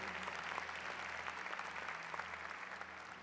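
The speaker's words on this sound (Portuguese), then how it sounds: "Vamos aplaudir isso, gente?" Crowd applause during a talk on mercy and family, a brief, dense and steady roar of many clapping hands.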